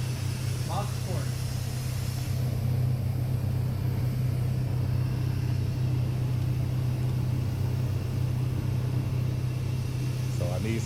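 A Ford Mustang runs on a dyno, a loud, steady low engine drone with rumble that holds constant throughout, with no clear rise or fall in revs.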